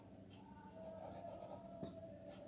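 Faint handwriting scratches during a mathematical economics class on market equilibrium, with soft strokes and small taps of the pen close by over a quiet hum, no talk.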